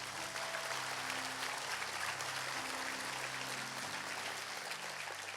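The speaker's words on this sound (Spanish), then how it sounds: "Dale el aplauso al Rey." A church congregation applauds together, a steady dense roar of clapping hands that fills the space at even loudness throughout, with no gaps or voices standing out.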